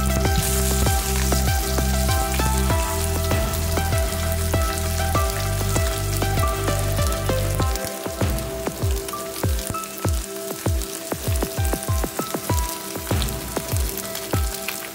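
Vanjaram (seer fish) pieces coated in masala fry in hot oil, giving a loud, continuous dense sizzle with crackling bursts and popping throughout. Nobody speaks.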